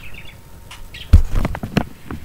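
Pet budgies chirping in the morning indoors, a few faint early calls followed by a livelier run of short, close chirps and clicks near the end.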